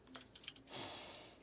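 Quick keystrokes on a computer keyboard, a short run of light, irregular clicks followed by a brief whoosh-like swell, faint and close, with no talking.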